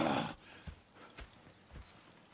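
Horse hooves clip-clop at a walking pace in Red Dead Redemption 2, with soft, evenly spaced thuds that carry over a quiet outdoor ambience and sit moderately close. No one speaks.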